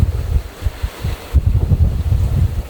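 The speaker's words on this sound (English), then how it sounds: "Sailing in about 15 knots of breeze, doing about 6." Wind buffets a microphone aboard a sailboat heeling along at sea in about 15 knots of breeze, a low, gusty rumble of steady roaring with irregular surges and no voices.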